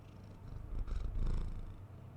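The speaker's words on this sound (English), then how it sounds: "so you can probably hear her purring now too." Cat purring right in front of a microphone, a soft, close, steady rumble that swells slightly in the middle of a short stretch, alone without talk.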